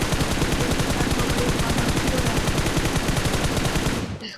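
An M4 rifle fires in a video game, a rapid unbroken burst of automatic gunfire, loud and close, running for about four seconds before stopping.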